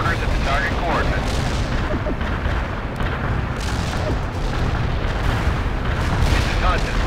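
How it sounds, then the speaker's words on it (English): Mortars firing on target coordinates in World in Conflict, a dense rumbling barrage of booms and blasts that continues throughout at a loud level, with radio-style voices talking over it. "Zulu 9 are firing mortars at the target coordinates"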